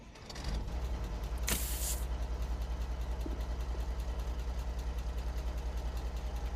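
A truck engine in the Alaskan Road Truckers game on PS5 cranks over and settles into a steady, throbbing idle, a short hiss of air bursting in during the start-up, the low rumble continuing evenly with no talk.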